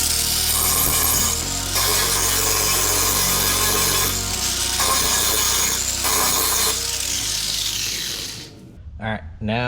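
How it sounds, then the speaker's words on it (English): Reciprocating saw (Sawzall) cutting a factory capture nut off the steel frame of a Cherokee XJ during a shackle relocation bracket install; a loud, continuous buzzing rasp with shifting pitch, stopping near the end. "You're just gonna use a Sawzall and cut that flush off with the frame."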